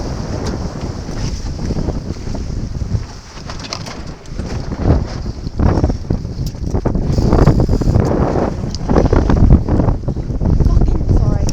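Strong, gusty wind roars and buffets around a sailboat out on the water at a yacht club, a loud continuous rush that swells higher in the second half.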